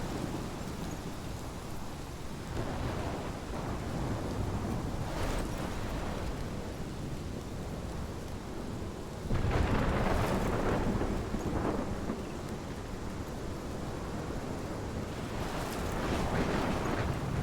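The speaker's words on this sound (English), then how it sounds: "This is my storm. I caused this." Thunderstorm from the game Life is Strange, with steady heavy rain and wind and rolling thunder that swells in loud bursts, alone with no talk.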